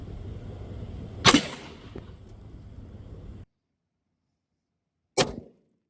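Two sharp, loud shots are fired through vehicle glass, each a sudden crack with a brief ringing tail, the first over a background hum and the second after a silent gap.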